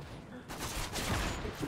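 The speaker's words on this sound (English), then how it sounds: "I just shot a guy 3 times and got 3 hit markers." Gunfire in the video game Modern Warfare 3 crackles in a short burst of rapid shots under a noisy, dense game mix, fairly faint overall.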